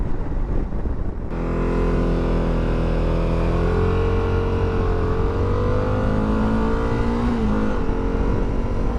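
Suzuki V-Strom 1050DE motorcycle accelerating hard with a quick shifter, a loud engine drone rising steadily in pitch through the gears, with a quick dip at a shift near the end, heavy wind noise underneath.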